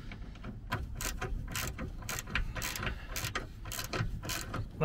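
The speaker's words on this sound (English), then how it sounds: "screw that up, and you'll get your 15 mil socket" A ratchet with a 15 mm socket tightening a bullbar bracket screw on a Sprinter camper van, rapid repeated clicking strokes in bursts, close and clear with no speech.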